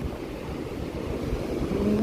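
Large sea waves roll onto a white-sand beach good for surfing, a low continuous wash and rumble swelling slightly toward the end, with some wind noise and no speech.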